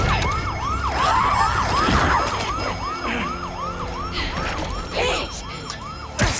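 Police sirens in the Spider-Man 2 video game, a loud rapid wailing yelp cycling steadily and close, with traffic and game noise beneath and no talk.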